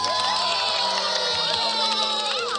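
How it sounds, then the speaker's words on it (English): A crowd cheers and whoops loudly in a short burst, with excited children's shouts mixed in, used as a sound effect in a 1986 read-along story about baby ponies dancing at a recital. "the crowd went wild."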